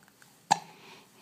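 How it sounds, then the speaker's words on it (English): A single short baby hiccup, sharp and close, sounding alone against a quiet room. "Hiccups again."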